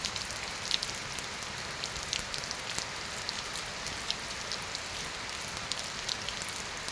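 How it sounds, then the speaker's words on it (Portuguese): Heavy rain falls steadily and drums on surfaces, forming a dense, constant wash of hiss with scattered individual drops ticking through it. No one speaks. "Tô gostando dessa chuva"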